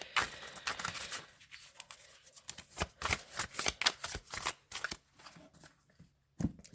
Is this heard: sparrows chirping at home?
no